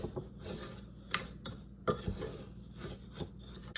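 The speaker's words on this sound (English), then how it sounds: "So I'm going to stir that all around." Dry onion soup mix with black pepper being stirred in a bowl, a soft close scraping and rubbing with a few sharper clicks of the utensil against the dish.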